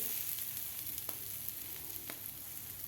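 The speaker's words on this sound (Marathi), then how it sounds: "आता आपल्याला व्यवस्थित हे फ्राय करून घ्यायचं आहे" Besan masala bread fries in a hot pan, giving a soft, steady sizzle with a few faint clicks and scrapes, quiet and close with no talk.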